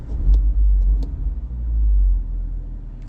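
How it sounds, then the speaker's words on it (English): A 2016 Mini Cooper S with valved exhaust opened gives a deep, loud engine rumble that swells and settles, heavy low exhaust drone close by with a few faint clicks. "you press it twice, and it opens up your exhaust"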